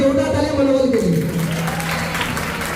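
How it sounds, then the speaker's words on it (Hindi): An audience at an anniversary event's short play gives applause, a wash of clapping heard alongside a voice speaking over a tonal background sound. "और जोरदार ताली मनोबल के लिए"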